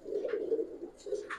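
Giribaz pigeons, one in moulting condition, give low, throaty coos in two soft bursts, close by with a brief higher note between them and no talk.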